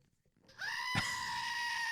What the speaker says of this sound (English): it's like a little billy goat thing. Oh. And he screams.